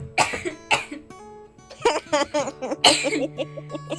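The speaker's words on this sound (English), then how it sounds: "That's what made me cough." Several sharp coughs burst out up close at the start, followed by a few more throat sounds mixed with voices talking nearby.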